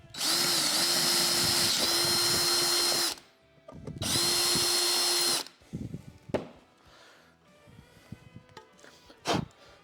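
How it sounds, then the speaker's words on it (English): A power drill opens holes to 5/16 inch for highway peg mounts on an Indian motorcycle, running in two loud, steady, close whines of about three and 1.5 seconds, followed by quieter clatter and handling noises. "So we're going to drill this hole out here to a 5/16"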